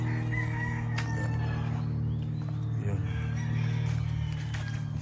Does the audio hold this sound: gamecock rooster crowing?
yes